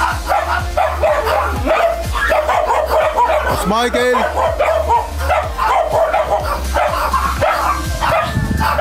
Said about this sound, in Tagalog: Medyo yung alaga nilang aso.